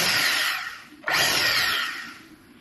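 A solar-powered electric drill machine whines loudly and steadily, dips briefly as it slows, then surges back up to full speed and gradually fades, heard alone with no talk.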